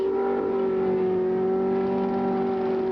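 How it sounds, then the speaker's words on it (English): Penske CART race car engine held at high revs in the pits at Mid-Ohio in 1991, a loud, steady, sustained buzzing drone with a strong constant pitch and no change across the moment. "High revs on the engine."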